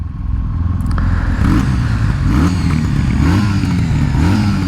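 A fresh 2020 Kawasaki W800 motorcycle engine revs and pulls away, a close, loud throbbing note with rising and falling pitch sweeps, steady throughout with no talking.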